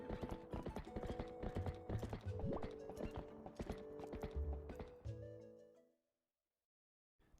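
Horse hooves clip-clopping in a video game, a brisk run of hoof beats layered over a tonal game soundtrack, then cutting to silence near the end.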